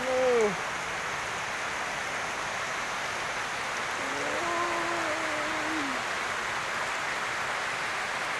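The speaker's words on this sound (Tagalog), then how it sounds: "Medyo na yung uwan." Steady rain from a typhoon pours down in a broad, continuous hiss that fills the whole clip, with brief voices talking over it near the start and again in the middle.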